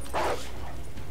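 In the Call of Duty: Modern Warfare video game, a dog gives a single short, sharp bark close by, then falls quiet against a low background rumble.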